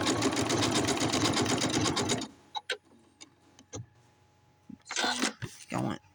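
A Janome Skyline S7 sewing machine runs a blanket stitch in a close, steady whirring burst for about two seconds, then falls quiet apart from scattered clicks and short bursts of handling noise.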